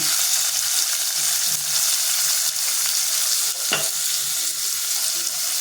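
Onions and green chilies fry in a pan after cloves and leaves, making a loud, continuous close-up sizzle with a brief scrape of stirring midway; no voices.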